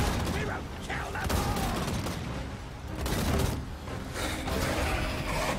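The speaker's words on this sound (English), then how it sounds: "Hellblaster volley gun!" A Hellblaster volley gun fires in a Total War battle, with a dense, sustained rattle of massed shots and booms over a roaring battlefield din with shouting.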